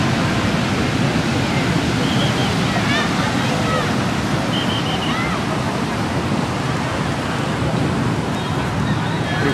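Ocean surf at Kuta Beach, Bali, under overcast skies, fills the air as a constant loud rush of breaking waves and wind, with no pauses.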